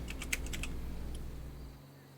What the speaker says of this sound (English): Gotta make sure I'm typing this right.